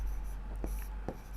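Pen or chalk writing on a board during a Sanskrit lesson, with a few short scratchy strokes, close but faint over a steady hum.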